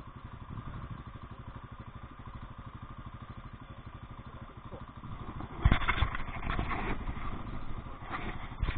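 A motorcycle engine runs in first gear on a mountain trail, a steady low chugging throb that rises in loudness and roughness partway through as the throttle opens.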